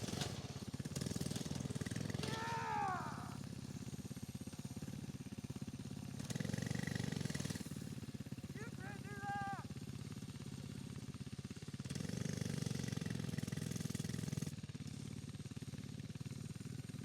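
Two FRP minibikes' small engines run on a dirt track, a buzzing drone near and far as the bikes pass, with pitch rising in quick revs several times and fading between passes.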